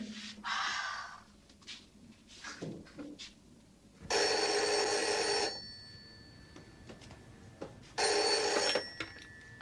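Indoors, a telephone bell rings in two loud, bright bursts separated by a quiet pause, with faint rustling in between and no talking.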